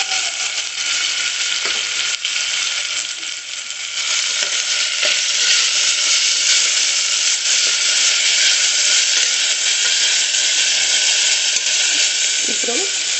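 Masala fries and is stirred in a pan while making korrala bagara rice, a steady close sizzle that runs throughout, with occasional scrapes and knocks of the spoon against the pan.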